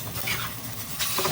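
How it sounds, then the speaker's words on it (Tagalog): Chicken stew with tomato sauce is stirred in a pot, a steady close scraping and wet churning with a faint sizzle underneath, continuous over a brief stretch with no talk. "Lagyan natin yung tomato sauce mga lods para mag-mix na siya at ikos-mikos na natin siya"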